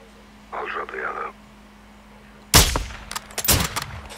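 Two loud, sharp bursts of Call of Duty gunfire about a second apart, each with a short ringing tail, after a brief murmur of voices over a quiet background hum.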